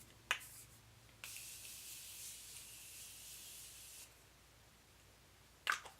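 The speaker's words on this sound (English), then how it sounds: "So I use the Morphe spray." Morphe makeup setting spray hisses in one quiet, sustained burst of about three seconds, with a faint click before it and another near the end.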